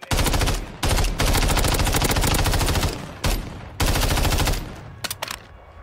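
Sustained automatic gunfire in Warzone 3 on Rebirth Island, long loud dense bursts of rapid shots broken by short pauses, ending in a few scattered single shots.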